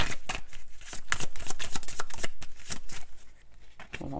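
Tarot cards are shuffled by hand in rapid, rhythmic riffling bursts, close and crisp, repeating steadily with no speech.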